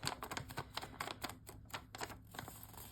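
Origami paper being folded up close, a quick series of crisp crinkles and sharp creasing snaps, faint and irregular, with no voices.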